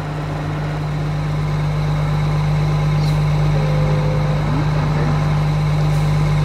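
A tractor engine in Farming Simulator 22 drones steadily at idle, a loud, even low hum with no change in pace throughout.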